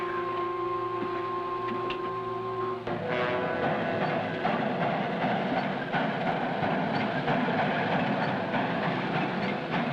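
A steam-era train runs along the track in a 1953 western setting, a loud, continuous rumble and clatter of wheels and carriages, with a held whistle-like tone fading out in the first few seconds.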